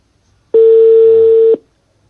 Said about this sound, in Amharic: ይሻላል አይደል? እየጠራ ነው።